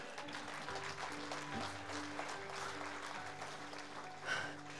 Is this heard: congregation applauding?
yes